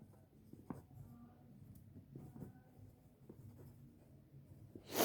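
Chalk or marker scratches and taps across a board during a maths lesson on quadratic equations, in short irregular strokes heard close and fairly quiet, with no talk over them.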